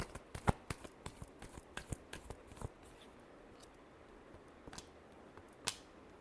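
Tarot cards being shuffled close by, a quiet run of crisp flicking and slapping taps, dense at first and then sparser, with one sharper snap near the end.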